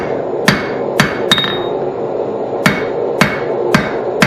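A hammer forges hot steel for a pair of blacksmith tongs: sharp metallic strikes land in two quick groups of three and four, ringing close and loud with no talk.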